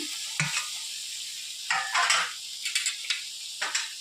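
Cauliflower cooked with turmeric is stir-fried in a pan, a soft sizzle running underneath while a spoon scrapes and stirs in short, irregular bursts near the pan.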